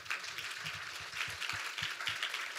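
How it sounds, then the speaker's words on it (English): An audience at a symposium panel session applauds the panelists, steady continuous clapping from many hands throughout. "Shall we give them another big applause?"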